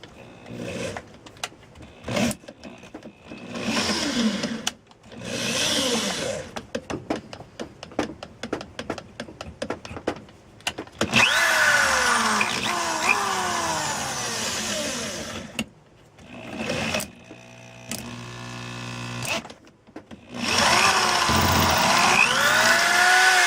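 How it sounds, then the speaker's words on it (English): An electric drill with a worn bit bores holes into a clamped knife handle, whining in short stop-start bursts before a longer, steadier run near the end, close by with no talking. "you want to make sure that you drill pretty straight"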